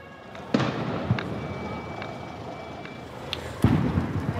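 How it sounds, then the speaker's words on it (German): Firecrackers go off at a May Day demonstration march, two sharp bangs some distance away standing out against a steady crowd and street rumble, with a few fainter pops between them. "Dann fliegen Böller."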